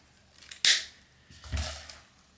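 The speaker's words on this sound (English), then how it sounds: "I'm going to take my cutters. These are old gnarly strings. They're on their way out, so I'm just going to cut them." Wire cutters snip through old, worn strings on a Fender Jaguar Vintera II '70s guitar: two sharp, close clicks about a second apart, the first crisp and bright, the second duller with a faint ring, no talking.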